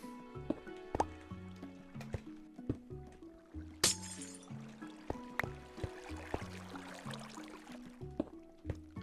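Placing water in a Minecraft survival game gives soft, repeated liquid drips and clinks, with game block sounds and background music notes in a quiet, steady rhythm.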